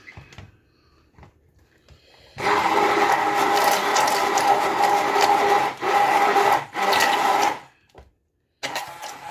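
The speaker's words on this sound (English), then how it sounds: "Give this a quick mix" A mixture being given a quick mix, a loud close grinding mechanical whirr running in three bursts separated by brief pauses, with no talk.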